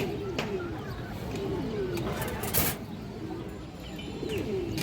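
A light-coloured China khaki female pigeon coos in low, wavering phrases repeated through the stretch, under a noisy background with a few sharp clicks.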